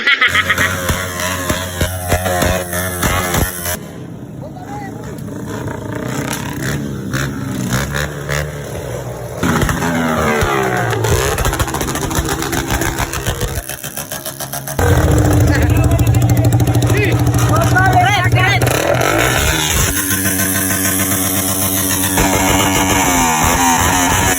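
Several motorcycles revving their engines at a New Year gathering, loud and close. Throttle blips rise and fall over a steady drone, shifting in texture as different bikes rev across the stretch, with people talking over parts of it.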